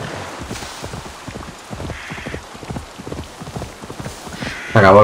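In Assassin's Creed Valhalla, a horse's hooves clop in a brisk, even rhythm at moderate loudness. A sharp, louder burst of sound cuts in at the very end.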